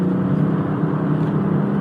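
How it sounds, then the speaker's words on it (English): A 2019 Porsche 911 GT2 RS accelerates hard, its engine a steady, loud, dense roar heard from inside the car, with no talk over it. "you press the gas and oh, it's fast"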